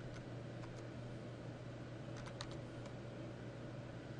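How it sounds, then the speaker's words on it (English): Quiet keyboard typing of an IP address into a network scanner's target field, a few soft scattered keystrokes over a steady low hum of background noise. "So up here in the target box, I'm going to type"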